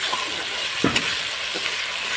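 Ginger and garlic paste with salt fries in a pan for a homestyle chicken curry. It gives a constant moderate sizzle, broken by a few short scraping stirs from a spoon. No one talks.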